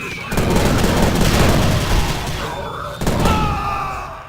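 Heavy gunfire from a powerful weapon in the video game Prey, a loud dense burst of shots lasting several seconds, then a second sharp blast around the three-second mark, with game sounds ringing after.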